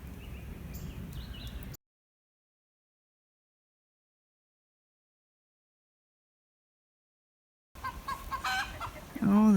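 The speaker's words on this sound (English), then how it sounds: "the barn chickens are having a fit about something" Barn chickens cluck and squawk agitatedly, broken up by a long stretch of silence in the middle. The noisy clucking returns louder and more excited near the end, with a nearby voice briefly underneath.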